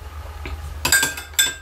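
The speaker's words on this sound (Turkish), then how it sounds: "Bunu şimdi karıştırıyoruz." Rose-scented hair oil balm mixture stirred in a container, a few clinking scrapes of a utensil against the vessel, two sharper clinks standing out near the end over a low background hum.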